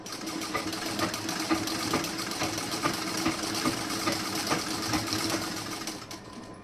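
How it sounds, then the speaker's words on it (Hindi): A sewing machine runs in a steady, rapid stitching rhythm close by, putting a seam into fabric along an unstitched edge for about six seconds before stopping, with no voices. "जहाँ पे हमारा जो है सिलाई नहीं हुआ था वहाँ पे मैं सिलाई लगा रही हूँ इस तरीके से"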